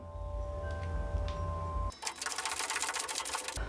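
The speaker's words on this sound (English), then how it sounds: "Joining Trevor today on rivet duty are my nephews, Asa and Julian." Rapid rattling bursts from riveting tabs on a DIY tinktube tiny camper build, starting abruptly after a steady low hum and continuing as a dense, loud mechanical chatter with no talking.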